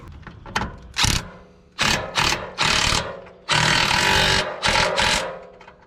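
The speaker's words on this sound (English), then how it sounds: "It just destroyed our ratchet." A ratchet wrench works on a shock mount on a 1980-1996 Ford Bronco or F-150 and gives way, making loud clicking, grinding bursts in an uneven stop-start rhythm, close up with no talk.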